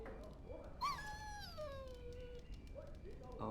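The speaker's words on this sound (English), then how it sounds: "Bloody dog." A dog in Dragon Age Origins lets out a drawn-out, falling whimper that slides downward over a couple of seconds, heard amid a faint game background with some low voice activity.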